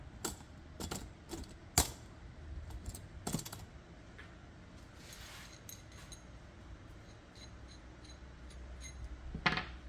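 A deburring tool bit is run through the threads of a part clamped in a vise, producing sharp metallic clicks and scrapes in irregular bursts, with quieter scraping in between and a final loud rattle.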